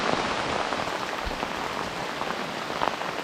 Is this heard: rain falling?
yes